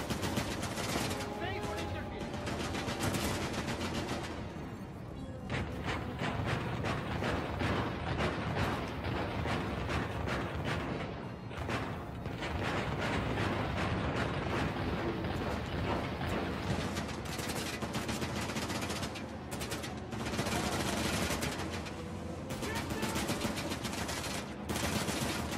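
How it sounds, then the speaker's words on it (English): Relentless gunfire in the action game Uncharted: The Lost Legacy, rapid machine-gun bursts and single shots crackling loudly and continuously with a few short lulls, with voices mixed in among the shooting. "Bullets everywhere, man."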